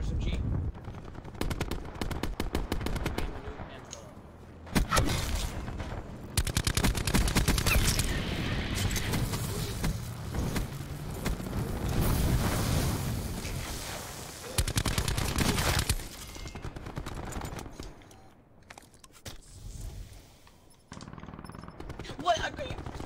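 Rapid automatic gunfire from a micro weapon in Call of Duty Black Ops 4, sustained bursts and volleys rattling on and off through much of the stretch, with a player talking over the shooting.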